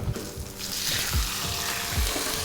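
Wagyu beef sizzles on a hot plancha with a steady frying hiss, broken by a few low thumps and clatters from handling nearby.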